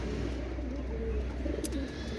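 Pakistani pigeons coo softly and steadily, low and continuous, with a brief sharper sound near the end; no voices.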